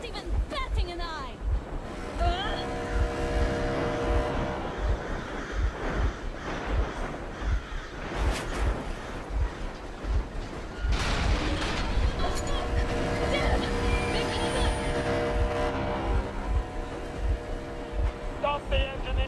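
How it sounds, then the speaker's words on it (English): A vehicle engine runs in Metro Exodus as a steady low rumble with a regular pulsing throb, continuing under voices talking throughout. "Stop the engine immediately and come out with your hands above your head."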